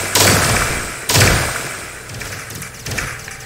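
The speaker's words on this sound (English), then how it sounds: "I'm going to go ahead and make my very first turret here." A turret is placed in a space tower defense game, giving two heavy mechanical thuds about a second apart, each with a whooshing sweep, followed by softer settling clunks and a fainter third knock.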